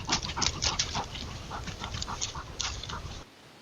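A large male cougar pants in summer heat, a rapid rhythmic series of close breathy huffs that stops abruptly near the end.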